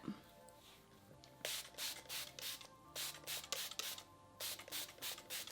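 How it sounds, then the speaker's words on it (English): Quick bursts of heat protectant spray hiss out from a pump bottle onto hair, a dozen or so short spritzes in an uneven rhythm. They are quiet and close, with no talking. "So I'm gonna go ahead and spray my entire hair with this first"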